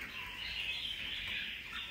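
Faint, continuous high chirping and twittering from caged songbirds, heard at a distance with a soft background hiss.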